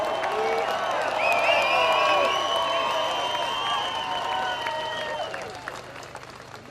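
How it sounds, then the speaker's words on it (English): Outdoor crowd at a freedom march and rally at Parliament in New Zealand applauds a firefighter introduced as the next speaker, steady clapping mixed with cheers and whoops, fairly loud and sustained for several seconds before easing off. "Give a round of applause for Paris."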